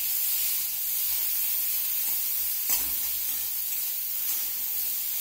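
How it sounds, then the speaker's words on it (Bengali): Potato pieces and boiled jackfruit seeds fry in oil with salt and turmeric, giving a steady, loud sizzle and hiss that runs the whole time with no voices. "আলুগুলো ডুবু ডুবু করে কেটে তেলের মধ্যে ছেড়ে দিচ্ছি"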